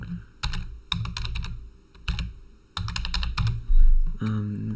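Fast bursts of keystrokes on a computer keyboard as a password is entered on a website form, with clusters of clicks separated by short pauses, close and clear, no talking.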